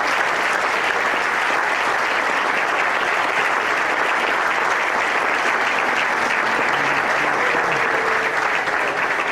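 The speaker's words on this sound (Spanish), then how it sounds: "hay que darle un aplauso pues al señor almirante" Steady, dense applause from a crowd at a port certification ceremony in Lázaro Cárdenas, Michoacán, sustained at an even loudness throughout with no talk.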